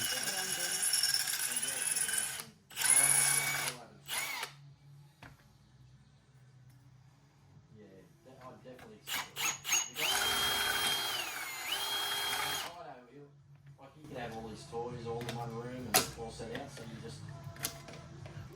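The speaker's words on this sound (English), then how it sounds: "I have to drill them out because they're rivets" A power drill drills out rivets on a Toyota 80 series in several short bursts of varying length, separated by pauses, with some quieter clattering and handling sounds between.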